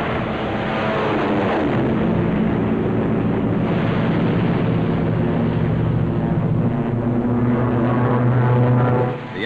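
Fighter plane guns strafing enemy picket boats and supply ships in 1944 wartime footage, with a loud, steady roar of aircraft engine and gunfire blending into one dense, unbroken rumble with no pauses.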